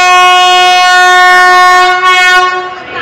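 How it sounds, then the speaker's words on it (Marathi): A train sounds a loud, sustained horn as it prepares to depart Jalna railway station, the harmonic blast holding steady for about three seconds, close and dominant. "आता ट्रेन सुटेल इथून."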